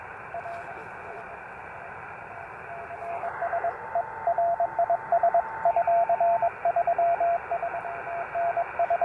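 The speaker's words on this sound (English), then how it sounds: "He's giving me a 339 with Morse code." Morse code CW tones received over a Yaesu FT-817 portable radio, a steady series of short and long beeps keyed rhythmically over a hissing band of radio noise, loud and close.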